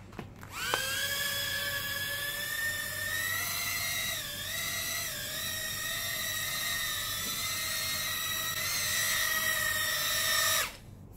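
Motors of a DHD D3 Mini Reddie quadcopter spinning up for a 2-gram lift test: a loud, steady high-pitched whine that starts abruptly, dips briefly in pitch twice midway, then cuts off near the end.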